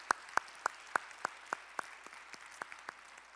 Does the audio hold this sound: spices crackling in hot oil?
no